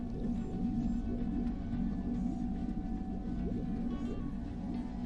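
Shellark shark creatures in the video game Five Peaks of Tarazed give low, continuous groaning calls over a dense bubbling underwater rumble, steady and moderately loud.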